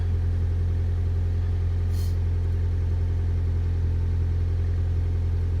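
A 1998 Honda Civic engine warms up at about 1500 RPM, a steady loud close idle drone with an even low hum throughout and no talk.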